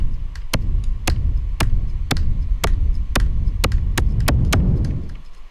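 A synthesized kick drum built from noise through a bandpass filter and limiter strikes about ten times in a steady pulse roughly every half second. Each hit is a sharp, punchy click over a booming low thump, with nothing else playing.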